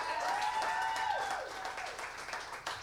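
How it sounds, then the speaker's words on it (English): Audience applause for a North Carolina GOP party chairman at an evening event, a broad wash of clapping lasting a few seconds with a faint tonal sweep running through it and no clear speech. "y'all clap it up for the hardest working chairman in the country"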